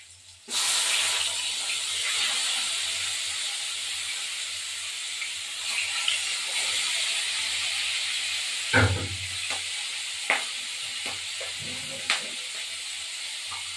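Fish sizzles in hot oil in a pan, a steady loud hiss running throughout, with a few brief clinks and scrapes of a utensil near the end.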